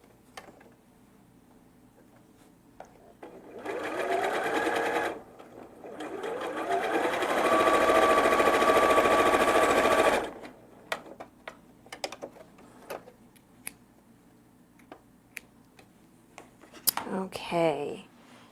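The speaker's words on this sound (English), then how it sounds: "So when I go to the sewing machine I'm going to turn it over so I'm sewing with the biased edge towards the feed dogs" Close by, a sewing machine runs fabric along its bias edge in two bursts, a short one and then a longer steady stretch, with clicks and handling sounds before and after.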